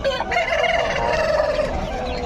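A rooster crows loudly at a Nallapadu chicken market, one long drawn-out call held for about two seconds over a steady din of other fowl clucking nearby.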